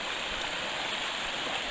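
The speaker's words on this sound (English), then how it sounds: "We gotta cross this river to go there." A rushing mountain river on the Ammonoosuc Ravine Trail in the Presidential Range, winter, roars in a steady, dense wash of flowing water close by, with no voices.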